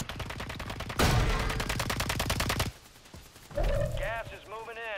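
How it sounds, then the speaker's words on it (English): Battle royale gunfire: a rapid, loud burst of automatic shots, then a pause and further noisy game effects, with a player talking over parts of it. "Someone's trying to snipe me"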